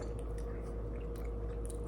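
Crunchy chewing of a green apple-flavoured snack, close and steady over a low background hum, with no talk.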